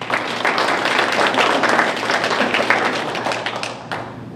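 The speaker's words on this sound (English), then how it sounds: "So please give yourselves a round of applause." Sustained applause from an audience at an awards ceremony, dense and loud clapping from many hands continuing steadily before fading slightly at the end.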